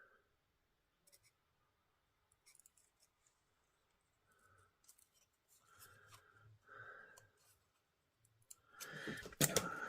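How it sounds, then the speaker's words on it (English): Quiet close-up snips and rustles of scissors cutting paper, sparse at first, then busier, ending in louder crinkling paper handling. "Hopeless scissors."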